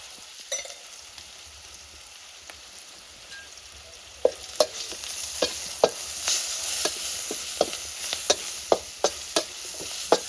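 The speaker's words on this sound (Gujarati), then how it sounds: "અને આ થોડુંક ધાણા જીરું નાખી દઈએ અને આ થોડીક હળદર નાખી દઈએ." Spices for a tempering, coriander-cumin powder, turmeric and chilies, sizzle in hot oil as a steady hiss. About halfway through, rhythmic scraping stir strokes join in, close and regular, with no voices.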